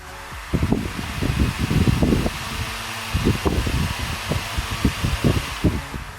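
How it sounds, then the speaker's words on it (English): An electric table fan running on an AC motor gives a whirring hum with uneven, fluttering pulses of air noise, close and moderately loud. "Now let's start the AC motor."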